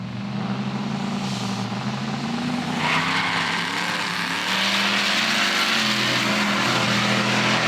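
V8 two-wheel-drive drag cars launch hard on a runway strip during a drag-racing shootout. Engines roar loudly and continuously with tire squeal and rising revs, close and unbroken throughout.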